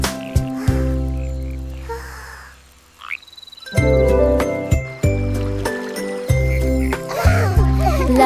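A frog croaks beside a stream, with repeated low, resonant calls rising and falling in loose bursts, fairly loud and close, along with some tonal, music-like sounds.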